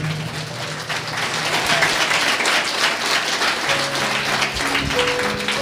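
A church congregation applauds in a dense, sustained burst of clapping that stays fairly loud and even, with faint voices underneath.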